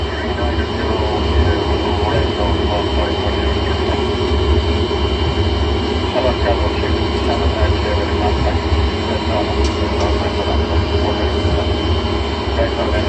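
Simulated Boeing 747 jet engines during a night landing approach into Philadelphia in a home cockpit flight simulator, a steady broadband roar and rumble throughout with faint speech-like chatter beneath.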